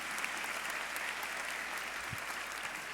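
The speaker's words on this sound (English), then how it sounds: "I didn't mean to shut off the clapping" A graduation audience applauding, a steady dense wash of many hands clapping throughout, moderately loud with no voices.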